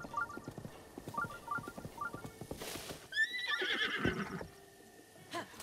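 A horse whinnies loudly over rhythmic hoofbeats and short electronic beeps at a stable in the video game The Legend of Zelda: Breath of the Wild, the neigh rising then fading.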